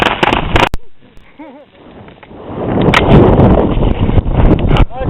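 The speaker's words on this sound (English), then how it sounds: "No, it's windy." Gusty wind buffeting the microphone outdoors at a backyard fireworks show, building to a loud roar, with voices talking and a few sharp pops.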